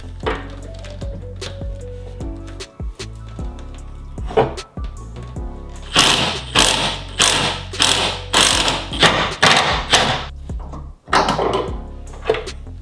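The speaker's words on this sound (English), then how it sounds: "we're gonna use our breaker bar and a T55 socket to remove this OEM bolt that bolts the bed down" A breaker bar with a T55 socket works on the OEM bed bolt of a Toyota Tacoma, producing close clicking ratchet-like mechanical sounds and a run of loud metallic clacks and thunks in the middle, without talk.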